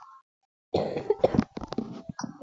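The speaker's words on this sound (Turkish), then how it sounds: "Öksürüyorum arkadaşlar hastayım" A burst of several harsh, close coughs in quick succession from a sick person after a brief pause, loud and raspy, with no talking.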